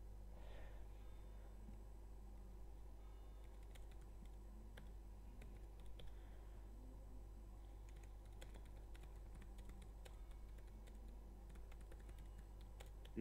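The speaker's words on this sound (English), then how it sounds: "Wait, why am I typing?" Quiet computer keyboard typing carries on for several seconds as scattered, soft key clicks over a low steady hum, with no speech.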